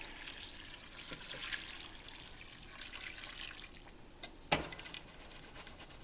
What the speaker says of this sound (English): we're going to add some water to both of these